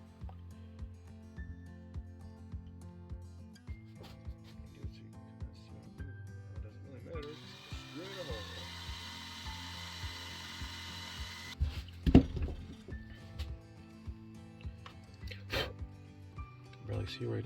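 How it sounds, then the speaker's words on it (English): A power drill whirs briefly in a short burst, drilling a hole in a sun catcher craft, followed by scattered clicks and clunks of driving a screw, with quiet talk around it. "So I'll drill a hole in there, screw that down"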